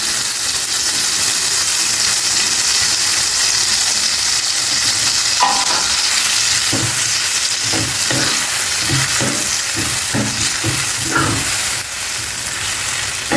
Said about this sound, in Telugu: ఈ బూడిద గుమ్మడికాయ గుజ్జుని ఇందులో వేసేయండి.